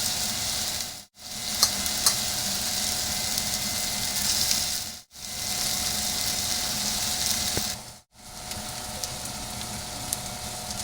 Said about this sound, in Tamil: இப்போ இந்த சிக்கன் பீஸுங்களை அதில் போட்டு நான் ட்ரையாக வறுத்துக்கிறேன்.